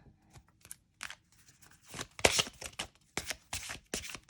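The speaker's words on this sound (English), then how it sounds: "Side shuffling is very easy." Oracle cards with a glossy finish are side shuffled in quick, crisp bursts, soft riffling slides repeating at close range with brief pauses between.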